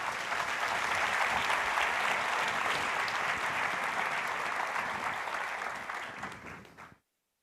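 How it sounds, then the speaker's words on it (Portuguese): A church congregation applauds loudly and continuously, the thick crowd clapping holding steady for several seconds before tapering off and cutting to silence. "Aplauda o Senhor Jesus."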